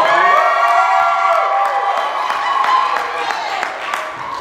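Congregation at Emile and Joyce's wedding cheering, whooping and clapping together in a sustained, loud, crowded wash with excited voices mixed in.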